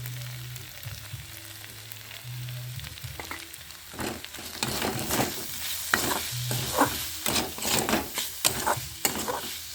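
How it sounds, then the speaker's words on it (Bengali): A filling frying in a pan under a low sizzle, stirred with quick scraping strokes that grow busier and louder partway through, close, with no talk. "নেড়ে চেড়ে নামিয়ে নেব"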